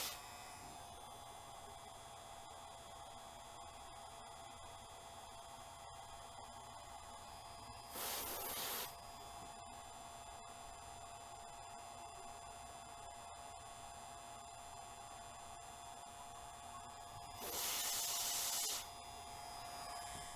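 Freeze spray is aimed at a resistor in two short hissing bursts, several seconds apart, over a constant electronic hum in a quiet room.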